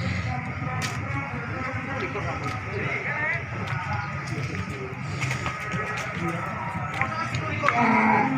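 Cattle at the Winong livestock market in Pati on a muddy day after rain: a busy bed of animal shuffling, hoof sounds and distant lowing under constant crowd chatter and nearby talking.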